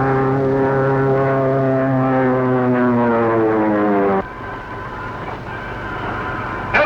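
A propeller aircraft engine roars loud and close during a power dive in a 1935 film, its pitch sliding steadily downward before the tone abruptly shifts to a lower, rougher drone that continues to the end.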